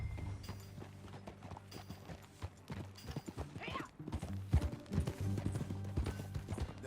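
Horse riding in the video game Red Dead Redemption 2, with rhythmic hoof clip-clops on the ground, a brief whinny in the middle and faint mechanical rattles of tack, no talk.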